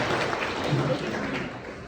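Wedding guests applaud at a reception during a best man speech, a steady dense wash of clapping lasting about two seconds at moderate level, with a faint voice briefly audible underneath.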